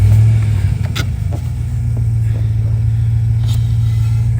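A Chevrolet Silverado truck engine runs at a steady, loud, low idle close by just after starting, with a constant deep rumble and faint ticks.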